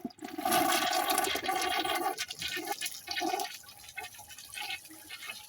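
A household toilet flushes slowly, with a loud opening rush of water that then weakens into a sputtering, gurgling drain and trickle. There is no speech over it.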